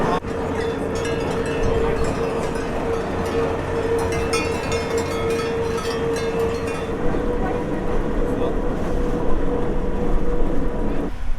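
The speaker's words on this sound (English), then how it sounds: "we are now driving down the Swiss Alps in a Cog Train" Steady rumbling and clattering of a cog train descending from Mount Pilatus in the Swiss Alps near Lucerne, heard from inside the carriage with a continuous mechanical hum, wheel and track noise, and quiet voices in the background.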